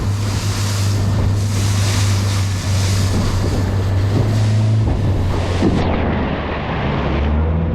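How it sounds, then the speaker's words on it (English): Ocean waves surge and break against a small boat at sea, loud and continuous with heavy wind buffeting the microphone, the rush swelling and easing over several seconds with no voices. "Some of these waves"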